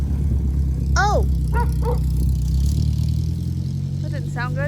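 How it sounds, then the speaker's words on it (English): A few dogs bark outdoors in short bursts, one near the start and a quicker cluster near the end, over a steady idling engine hum in December near a garage. "We got the dogs out here."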